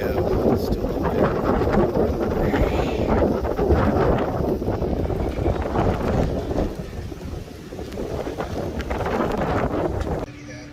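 Strong wind gusting across a moored sailboat's starboard side, a loud continuous roaring buffet with rumbling surges that rise and fall throughout.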